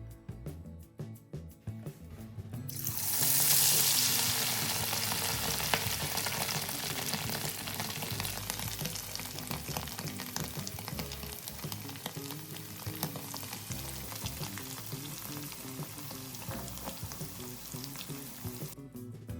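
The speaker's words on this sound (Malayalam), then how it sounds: "മുഴുവൻ ചിക്കനും ഇതേപോലെ തന്നെ പൊരിച്ചെടുക്കുക" Small chicken pieces deep frying in hot oil for a crispy chicken mixture snack, a loud, steady sizzle with crackling bubbles that swells after a quiet start and continues unbroken with no talking.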